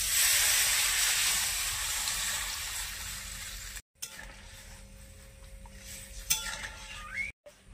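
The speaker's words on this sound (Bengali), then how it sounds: "এবারে ঝোলটা দিয়ে দিচ্ছি।" Broth poured into a pan of spiced catfish curry with ridge gourd and potato gives a loud wet rush and sizzle, then settles into a quieter simmer with a few clinks of a pan or utensil.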